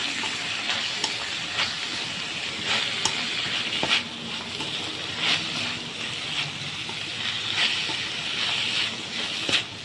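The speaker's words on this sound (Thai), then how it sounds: "เดี๋ยวเราจะใส่มะละกอลงไปเลยค่ะ เอาไปผัดแบบนี้นะคะ" Papaya stir-fried with minced pork in a pan for a Thai jungle curry, a constant loud sizzle and hiss with repeated scraping strokes of a spatula, close up.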